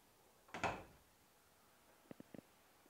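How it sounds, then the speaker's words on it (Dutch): A door on an HBM modular workshop cabinet swings shut with one firm thud, followed after a pause by a few small clicks and taps from the cabinet. "Neem nou eens een deur, als je die open doet, je gooit hem dicht."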